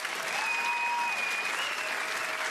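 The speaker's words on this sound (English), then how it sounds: "A big hand for him" A comedy club audience applauds a stand-up comedian, a steady wash of clapping that holds at an even level throughout, heard at a moderate distance without speech.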